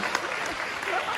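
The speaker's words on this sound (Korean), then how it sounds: "자, 큰 박수 부탁드리겠습니다." Wedding guests clapping in a hall, a dense, steady burst of applause from a crowd, fairly loud and close throughout the short moment.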